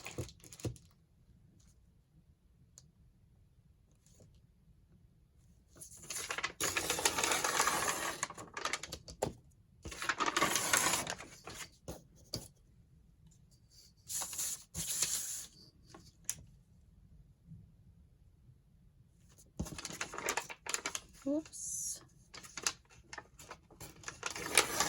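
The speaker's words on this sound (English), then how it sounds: "So I'm just going to tear the edges." Tea-stained paper is torn along its edges in several short bursts of dry ripping and crinkling, close and fairly quiet, separated by near-silent pauses.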